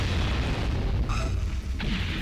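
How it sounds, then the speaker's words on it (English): Bomb explosion in the video game Blood Will Tell, a dull rumbling boom with a crackling tail followed by a second smaller pop, under a constant low game background with no talk. "I only wish that fire explosion set off a few more of his bombs."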